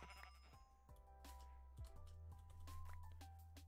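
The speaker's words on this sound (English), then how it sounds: "Black sheep." Sheep in Minecraft bleat a few times in short game-sound calls, with keyboard typing clicking throughout at low volume.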